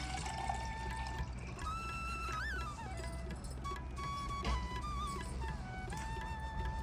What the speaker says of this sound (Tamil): கலசத்தில் பார்த்தோம்னா சுத்தமான ஜலம் விட்டுக்கலாம்